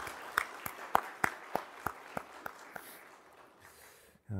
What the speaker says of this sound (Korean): 우리 이응도 목사님께 감사의 박수 한번 드리겠습니다.